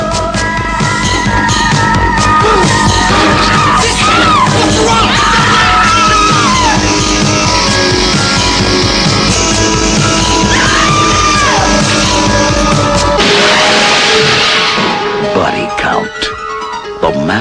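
Screaming and yelling from a horror film, loud and sustained over a dense bed of music and crowd-like shouting, with pitched cries rising and falling before the mix shifts near the end.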